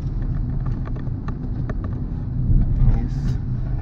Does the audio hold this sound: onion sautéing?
no